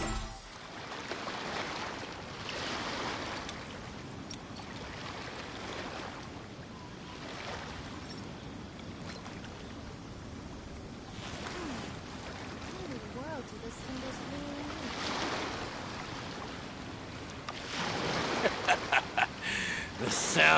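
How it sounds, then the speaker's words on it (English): Ocean waves wash continuously through the seaside game world of Genshin Impact, a broad steady surf rising and falling in soft swells, with a few brighter splashes and clicks near the end. "The sound of the ocean waves."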